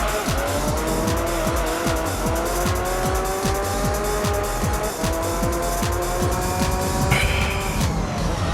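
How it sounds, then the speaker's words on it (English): Gran Turismo racing game audio: a loud car engine repeatedly revs and shifts through gears with rhythmic turbo blow-off hisses between shifts, tires squealing near the end, and no talking. "the old turbo blow-off sound from technically from GT2"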